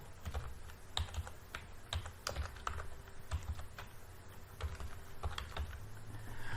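Someone types a link title on a computer keyboard, with a quiet, irregular run of close key clicks and taps tapping out in short bursts over a faint background hum, no talking.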